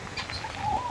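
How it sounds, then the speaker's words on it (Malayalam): Short soft cooing calls from a guinea fowl at a tourist village in Vagamon carry at a moderate distance against light outdoor background noise. "ഇതാണ് ഗൽഗൻ"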